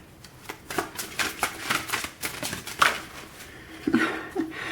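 Tarot cards being shuffled by hand, a close series of soft riffling flicks and slaps in uneven bursts, with a faint voice near the end.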